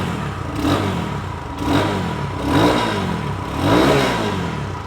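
A Lifan 200cc retro-style motorcycle engine idles and is revved four times in a steady rhythm, each rise swelling louder before settling back, close by.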